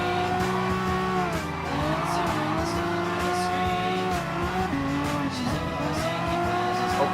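Audi GT Cup race car in the video game Gran Turismo Sport, its engine droning steadily and shifting pitch through gear changes with tire squeal, loud and continuous throughout.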